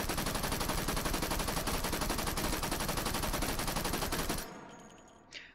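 A Thompson submachine gun firing in the H3VR video game: a loud, continuous rapid burst lasting about four seconds, then cutting off into quiet with a faint clink at the end.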